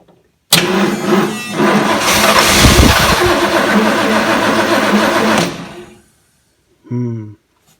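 A Ford 460 V8 with a rubber hose stuffed in it cranks and fires up loudly on a dose of starting fluid, running rough for about five seconds before dying out, followed by a brief low rumble of another cranking attempt.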